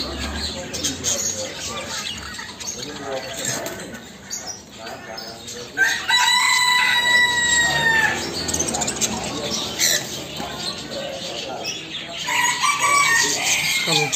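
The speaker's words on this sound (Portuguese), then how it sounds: "Calopsita." Chirping calls of cockatiels and other caged birds fill a busy pet shop, with shrill whistles rising over a constant background of chatter and bird noise, and people talking nearby.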